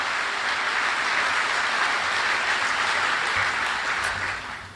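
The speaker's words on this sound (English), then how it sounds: "Let's give them all a round of applause," Sustained applause from a large audience at a Halifax Chamber of Commerce address, a steady dense wash of clapping that holds loud throughout and fades slightly at the end.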